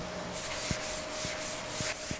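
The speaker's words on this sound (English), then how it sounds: "We're not sanding into the profile at all, we're just flattening out that layer of CV" Rhythmic strokes of sandpaper rub by hand across a wooden cabinet door panel, back and forth at an even pace, close and fairly quiet, with a faint steady hum underneath.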